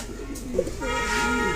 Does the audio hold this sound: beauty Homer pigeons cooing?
yes